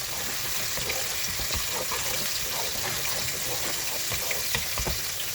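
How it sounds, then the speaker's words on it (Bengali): Water added to ground spices sizzling in a hot pan for a mustard and sea fish dish, a loud, dense, continuous hiss and bubbling up close. "সামান্য একটু পানি অ্যাড করে মশলাগুলো সুন্দর করে কষে নেব।"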